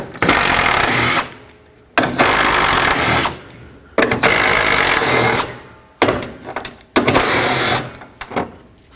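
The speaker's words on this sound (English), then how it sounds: "Then switch to a 10mm and remove these 4 bolts here." A tool works the radiator bolts on a 2007-2009 Saturn Aura, loud close bursts of roughly two seconds, each followed by a brief pause, repeating four times.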